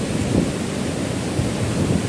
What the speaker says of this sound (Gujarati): પાણી હાવ ઘૂંઘવાટા મારે મિત્રો,